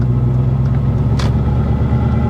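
Loud low rumble from a BMW E39 M5 with supercharger under heavy load, a steady whining drone from the differential riding over road and engine noise from inside the car.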